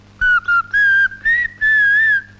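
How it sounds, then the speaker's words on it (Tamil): A person whistles a melody up close, loud and clear, in five separate phrases with short pauses, the last one held longest. "விசில் வேற அடிக்கிறியா?"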